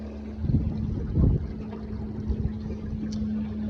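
A steady electric motor hum from a Minn Kota Endura C2 30-pound-thrust trolling motor on speed 5 drones continuously on a 12-foot jon boat, with water splashing and light wind buffeting.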